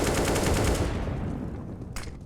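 Pistol gunfire in Counter-Strike on the Overpass map during a competitive match: a quick burst of loud rapid shots at the start, trailing off into a fading rumble, with a single sharp click near the end.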